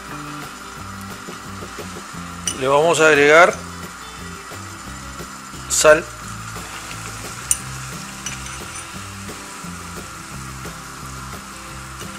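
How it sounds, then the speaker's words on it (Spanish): A pot of salted water for cooking tallarines boils steadily with a continuous hissing bubble throughout. A person speaks briefly and a couple of sharp kitchen clinks stand out. "ya está hirviendo la olla del agua"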